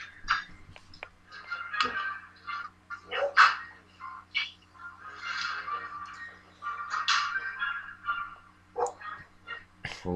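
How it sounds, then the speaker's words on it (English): A dog barks in a back garden, its yaps and calls faint to moderate and scattered over ten seconds against steady low background hum, with no talk. "there goes my dog in the back garden"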